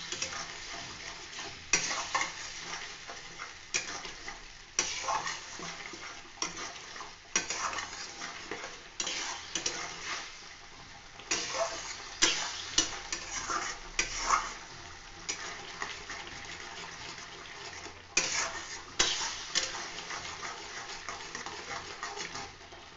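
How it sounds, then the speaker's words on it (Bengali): A spoon stirs spicy poppy-seed paste as it bubbles and fries in a pan for a katla fish curry, close-up scraping and sizzling in irregular strokes, with no talking. "ফুটছে মশলাটা, ততক্ষণ আমি এইভাবে নাড়াচাড়া করে নেব।"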